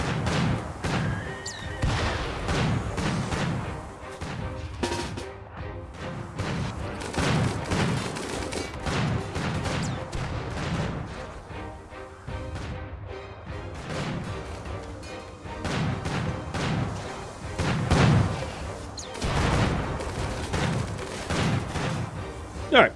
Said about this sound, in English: This Inferno just keeps shooting at the wall, which is glorious